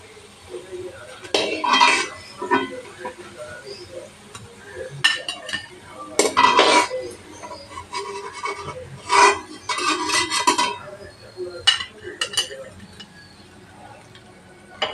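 Metal utensils clatter and clink against a pan as fried onion fritters (piyaji) are lifted out of the oil, irregular bursts of scraping and knocking close by, with someone talking in between.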